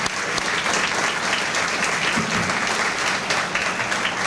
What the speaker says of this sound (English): a big round of applause for their celebration of achievement